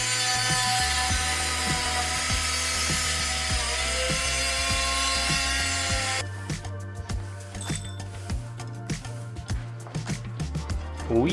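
A jigsaw cuts through metal sheet on a jet tank racer build, a continuous buzzing rasp for about six seconds, then shorter choppy strokes and clattering, close and loud.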